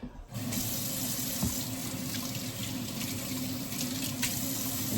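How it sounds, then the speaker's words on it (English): Hands rinsed under a running kitchen sink tap while cooking spicy wings, a steady, close water stream starting abruptly and continuing throughout, with no talking. "let me rinse off my hand"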